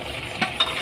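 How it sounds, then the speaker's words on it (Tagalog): A spoon stirs pork sisig with vinegar and dried fish in a pan, two quick scraping strokes over a soft, steady sizzle, faint and close. "Ayan mga idol, haluin na natin yan."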